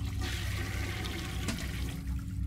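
In the horror game City of Nightmares, a toilet flushes with a strong, continuous rush of swirling water, close and loud, with one brief clunk partway through.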